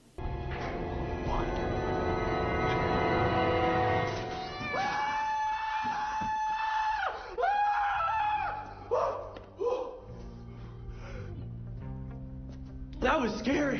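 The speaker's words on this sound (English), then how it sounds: "Dean's screaming is comedy gold." A man screams loudly in a comedic scene from Supernatural, long high wavering yells rising and breaking off amid other sound, followed by shorter shouts and cries.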